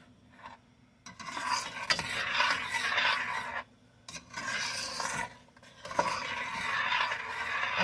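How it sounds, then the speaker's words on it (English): A spoon scrapes and rasps around a pot of boiling jalapeno pepper jelly with sugar, in three long bursts of close, steady stirring separated by short quiet gaps. "you want to stir constantly"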